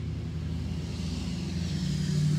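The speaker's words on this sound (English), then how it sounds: "that loud truck that came by" A loud truck driving past produces a steady low engine rumble that holds and swells slightly toward the end of a short stretch, with no talking.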